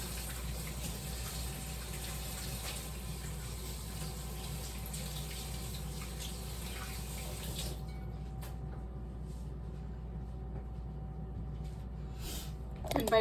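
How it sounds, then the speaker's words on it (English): Tap water runs steadily into a kitchen sink during hand washing, a constant close hiss and gush that thins out near the end with a few splashes. "I'm just gonna wash my hands again real quick."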